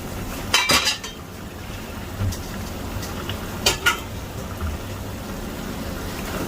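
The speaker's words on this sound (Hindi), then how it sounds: "अच्छी तरह इसको मिक्स कर देना है।" Penne pasta being mixed with pesto sauce in a pan, with a few scraping clinks of a utensil against the pan and soft stirring between them.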